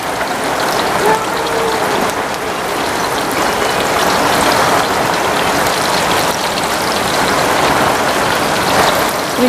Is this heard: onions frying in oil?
no